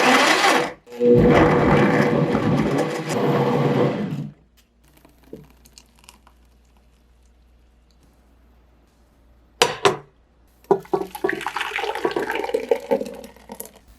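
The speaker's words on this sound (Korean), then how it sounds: "양파 넣고 마늘도 넣어서 곱게 갈아줄게요." A loud whirring, grinding blender blending onion and garlic runs steadily for several seconds, stops abruptly, then after a quiet pause sputters back on in rougher bursts.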